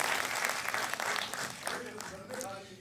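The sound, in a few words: audience applause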